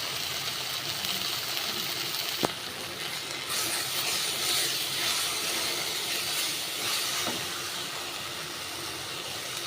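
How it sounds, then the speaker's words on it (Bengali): Water poured into a pan of hot spiced oil while cooking a pangas fish curry, giving a steady loud sizzling hiss that continues throughout with a couple of brief clicks. "এবার আমি জল দিয়ে দিচ্ছি,"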